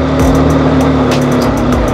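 A motorbike carrying two riders, with low tyre pressure, strains up a steep off-road climb on the Rati Ghat track. The engine holds a loud, steady drone close by, with repeated short bursts of revving.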